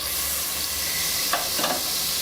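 Butter sizzles steadily in a hot pan while mutton pulav is cooked, a close, even frying hiss with a few brief stirring scrapes near the end.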